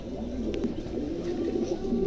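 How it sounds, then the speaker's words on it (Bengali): A large male pigeon of a fancy breed coos softly and steadily at close range, a low throaty burbling repeated for about two seconds with faint background noise. "দেখেন চমৎকার একটা কবুতর।"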